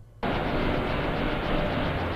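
A sampled city-traffic noise texture from the wavetable synth engine of a Liven Bass & Beats cuts in suddenly after a brief quiet moment, then continues as a dense, even, broadband wash.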